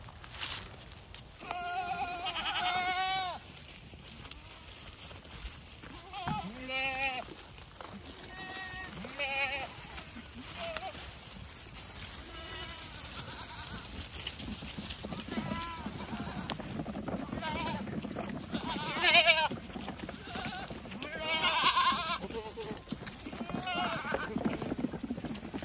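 Several goats bleat repeatedly, loud and close, in wavering cries spread across the stretch, with background rustling and outdoor noise between calls.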